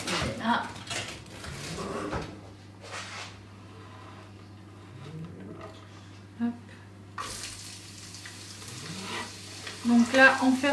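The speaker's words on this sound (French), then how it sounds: "on fait revenir l'oignon et l'ail" Onion and garlic frying in a pan, a low, steady sizzle with clinks of utensils and stirring, while voices talk at intervals over it in a home kitchen.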